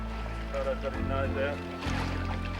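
A project boat's outboard motors drone on open water near dolphin sea pens, a steady low engine hum with a shifting pitch as the throttle changes, and a voice talks over it.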